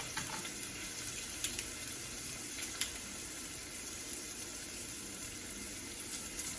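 Chopped onion, curry leaves and dried chillies frying in oil for a vegetable sothi, giving a steady, even hiss and sizzle throughout with a couple of faint clicks, moderately quiet and close.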